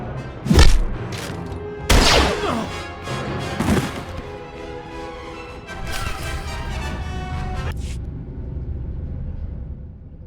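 Blaster fire in Star Wars: The Old Republic on the planet Voss, loud sharp shots at irregular intervals with booming thuds, then a dense spell of combat noise that cuts off abruptly near the end.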